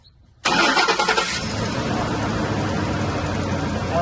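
Ford F150 4WD truck engine cranking and catching abruptly after brief quiet, then settling into a loud, steady close-up idle.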